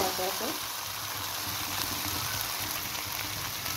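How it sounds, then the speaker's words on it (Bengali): Spices being stir-fried in a pan for a vegetarian paneer curry, a steady close sizzle with soft scraping throughout, no talking. "এবার এইটাকে কষাবো। দেখুন মশলাগুলো কষানো হয়ে গেছে।"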